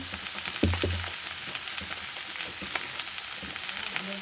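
Snake gourd fries with fish roe and turmeric in a Bengali-style pan dish, giving a steady close sizzle with scattered crackles and a couple of stirring knocks near the start.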